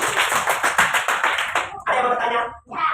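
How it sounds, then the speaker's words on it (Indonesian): Classroom students clapping for a group, a quick run of rhythmic claps for about a second and a half, then a couple of shorter bursts, close and fairly loud. "tepuk tangan dulu untuk kelompok 2"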